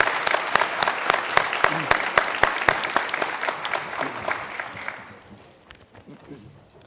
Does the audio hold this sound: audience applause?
yes